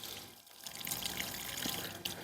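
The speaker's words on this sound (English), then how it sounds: "So we're not going to put very much water on these peppers today." Water is poured lightly onto freshly transplanted super hot pepper plants, giving a quiet, continuous trickle and splash with small bursts, heard alone and fairly close.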